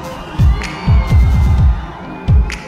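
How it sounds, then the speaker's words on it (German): An outdoor festival concert crowd cheers and shouts in loud rhythmic bursts, with heavy thumping hits underneath. "Applaus."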